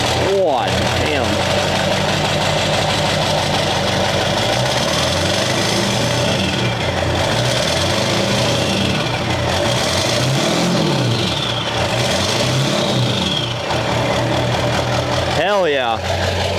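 A 7.3 Powerstroke diesel truck engine fitted with a prototype turbo idles loud and close in a rough, steady rumble, with a brief rev near the end.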